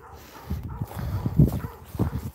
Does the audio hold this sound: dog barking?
yes